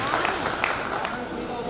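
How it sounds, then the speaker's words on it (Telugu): Audience applause at a retirement function, a steady wash of many hands clapping throughout, moderately loud and continuous, with some voices mixed in. "చప్పట్లు కొట్టాలండి."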